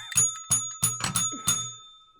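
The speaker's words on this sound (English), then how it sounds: "You gotta stop hitting it so aggressively." A small bell struck hard and fast, ringing out in five sharp, bright strikes with a clear metallic tone in quick succession, close and alone.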